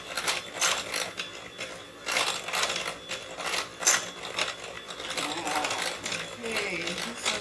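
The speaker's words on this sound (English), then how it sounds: "Okay, this doesn't look as smooth as I'd like it, but I'll beat it a little bit harder." A creamy mixture beaten hard in a bowl until smooth, rapid rhythmic clattering strokes in bursts, with a voice talking over parts of it.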